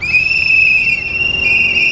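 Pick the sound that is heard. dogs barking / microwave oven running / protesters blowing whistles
protesters blowing whistles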